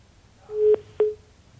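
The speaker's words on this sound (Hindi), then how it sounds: "फोन कट गया है, मैं दोबारा फोन लगा रहा हूं" A telephone is redialed during a live TV news discussion: two short electronic dialing beeps sound clearly in a quiet line, about a quarter second apart.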